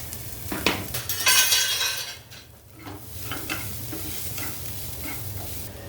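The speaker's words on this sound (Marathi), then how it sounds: "आपलं तेल तापलंय, तेलामध्ये घालूया हा मसाला।" Masala dropped into hot oil in a pan, giving a sharp burst of sizzling that fades into a steady, softer frying hiss with occasional stirring scrapes.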